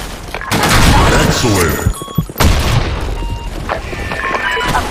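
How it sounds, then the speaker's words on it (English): Grenade blast in a Counter-Strike-style match on a sand map: a loud boom and crackling gunfire burst out over a constant din of combat, with a player's voice heard briefly among the shots. "Grenade! Grenade! Fire in the hole!"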